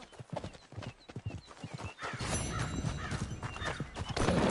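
Hooves clip-clop steadily from a filly in a Western video game, joined by a whinny, while brief game talk runs early on and the hoofbeats grow louder and denser toward the end.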